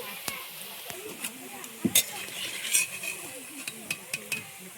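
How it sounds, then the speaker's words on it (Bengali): Taro leaf and drumstick leaf fritters frying in hot oil with a soft steady sizzle, punctuated by clinks and scrapes of a utensil against the pan, close by; a voice speaks briefly. "এইভাবে ভেজে নিচ্ছি"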